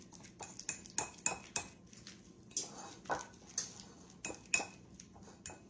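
A utensil mashes and stirs egg yolks in a dish for deviled eggs, making a run of sharp metallic clinks and taps against the dish in an irregular rhythm, close and fairly quiet.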